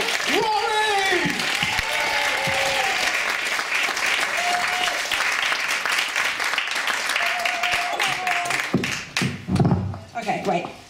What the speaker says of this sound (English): Start some clapping. Let's add the love. And please welcome to the wonderful Rory!